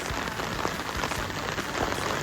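Typhoon Ada's rain falls steadily, a close, even hiss of drops pattering on surfaces with soft low thumps scattered through, no voices.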